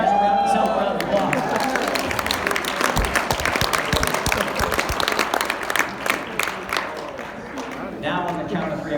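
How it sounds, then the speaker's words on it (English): Audience at an Alpha Con event breaking into a round of applause, dense clapping with a few cheers that trails off toward the end while a voice speaks over it. "Give you guys a round of applause."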